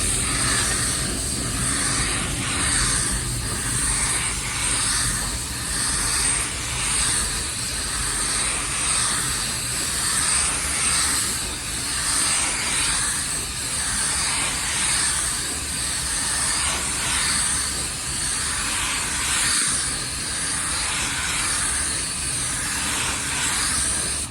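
A paint spray gun at 24 PSI lays a second clear coat on a car, a loud, steady hiss that runs without a break and swells and eases slightly with each pass.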